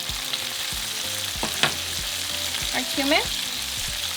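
Onions, tomatoes and garlic salt frying in a pan, a steady close sizzle with stirring and utensil clatter over it and a brief spoken word.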